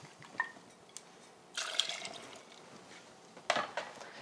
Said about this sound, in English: So we'll start with 2 ounces of Alpine rye whiskey